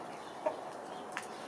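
A hen clucks softly in a snowy farmyard, two short clucks a little apart against a quiet outdoor background with no talking.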